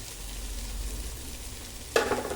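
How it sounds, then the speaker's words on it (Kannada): Mango rice sizzling and frying steadily in a pan of hot oil, alone with no voices, with a sudden louder burst of sizzle and stirring near the end. "ಆದ್ದರಿಂದ ಇದನ್ನು ಸ್ವಲ್ಪ ಹಸಿ ಸ್ಮೆಲ್ ಹೋಗೋ ತನಕ ಫ್ರೈ ಮಾಡ್ಕೋಬೇಕು."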